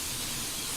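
Butter-flavored cooking spray hisses steadily out of an aerosol can as it is sprayed around the inside of a cake pan, one continuous close spray with no pauses.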